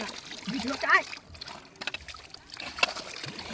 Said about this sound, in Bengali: তো জলটা বের করে দিই একটু